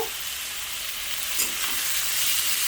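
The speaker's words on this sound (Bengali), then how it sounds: "সমস্ত ফোড়ন দিয়ে তারপরেতে পেঁয়াজগুলোকে ভালো করে ভেজে নেব" Onions frying in a pan with dry red chillies, bay leaf and whole garam masala, a steady broadband sizzle with faint stirring touches, close and even throughout.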